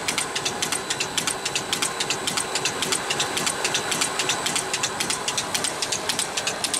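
15 hp solar-powered farm water pump motor driving the pump through a 6-inch belt pulley, running with a steady rapid ticking pulse and a continuous mechanical hum, close and alone.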